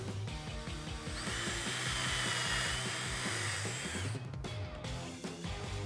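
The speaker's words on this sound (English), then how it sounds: "used a 1/8 inch router bit, and just rounded over all the edges that I would potentially touch" A handheld router with a 1/8 inch round-over bit cuts along the sharp edges of ripped wood for a CNC table, giving a loud, steady high whine that dips and shifts as the cut changes.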